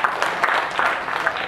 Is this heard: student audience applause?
yes